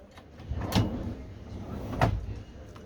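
Two short knocks or clunks of a drawer or cupboard in a Weinsberg 2024 motorhome kitchen under the sink, about a second apart, fairly close, over a quiet hall background.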